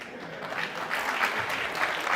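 A studio audience on the Aap Ki Adalat courtroom-style TV show claps in a brief, even burst of applause that fills the whole moment without any voices over it.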